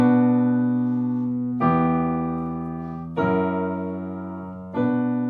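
Three piano chords struck one after another, each ringing and slowly fading before the next, forming a plain minor-key progression.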